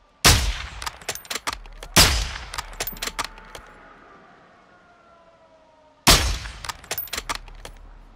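Gunfire in Call of Duty: Modern Warfare II, with three loud booming shots each followed by a rattle of rapid rounds and echoing tails, separated by a quieter lull.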